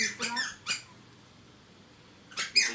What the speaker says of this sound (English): The chair is squeaky